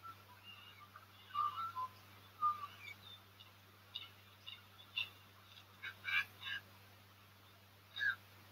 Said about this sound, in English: That was a call from a different magpie, but this one is going to reply